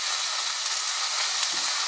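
Chicken stir fry vegetables hitting a very hot pan give a steady, even sizzle and hiss, close and continuous with no talk over it.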